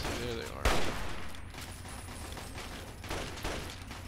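Turrets firing in the video game Fallout 3, with one sharp loud shot early followed by softer bursts of gunfire over a steady game background.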